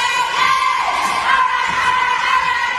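A crowd cheers and yells in the St. Catherine Academy school gym, a sustained roar of excited voices and whoops swelling and easing, loud and close.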